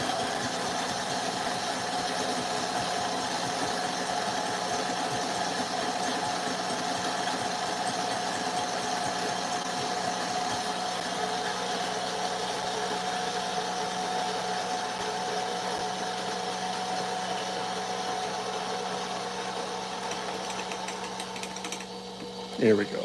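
A coffee grinder fitted with aftermarket multi-purpose burrs runs steadily on beans, a continuous close motor whine and grinding hum that holds for the whole stretch before cutting off at the very end.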